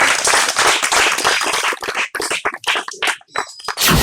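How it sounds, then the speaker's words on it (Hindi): An audience at an election village gathering claps to welcome Madhusudan Patel, in loud bursts of applause that break into uneven, choppy patches before swelling again. "मधुसूदन पटेल जी आए और आप लोग ताली बजाकर स्वागत करेंगे।"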